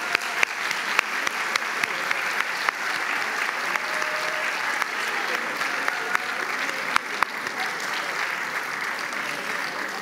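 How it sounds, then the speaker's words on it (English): A round of applause at a 2023 university graduation ceremony in Tirana, with sustained clapping from a large audience filling the hall and a few sharper claps standing out near the microphone. "And please join me in a round of applause."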